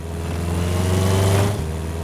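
A motorcycle engine holds a loud, steady revving drone that swells higher, then eases off near the end, with no voices.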